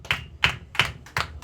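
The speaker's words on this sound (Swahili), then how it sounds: "Pigie Bwana makofi mazuri." A church congregation claps for the Lord, four sharp bursts of clapping in an even rhythm, close and fairly loud with no talk.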